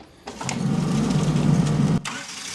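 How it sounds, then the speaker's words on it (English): A 1991 Honda Civic that sat unused for over ten years cranks and fires, then settles into a loud, close, steady idle for about two seconds before cutting off abruptly. "so we're going to start it now with coolant"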